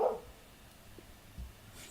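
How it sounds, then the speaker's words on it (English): A dog gives one short, fairly faint bark at the very start, followed by quiet room tone and a few soft, indistinct bumps. "You hear that barking?"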